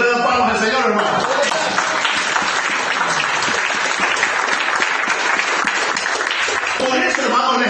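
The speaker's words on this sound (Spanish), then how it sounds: "¿Cuánto le dan palmas al Señor" Church congregation clapping for the Lord during a Friday service, a thick continuous wash of applause filling the room for several seconds, with voices mixed in underneath.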